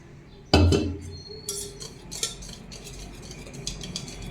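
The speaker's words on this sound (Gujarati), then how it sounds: "બરાબર મિક્સ કરી લઈએ." Utensil scraping and clinking in a bowl as vada pav batter is mixed with water, starting with a sharp knock, then steady stirring strokes, close and alone.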